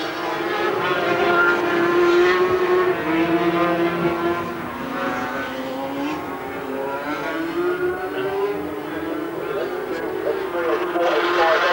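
Racing sidecar outfits powered by 500cc Yamaha engines drone past, their engine whine rising and falling continuously under a commentator's voice.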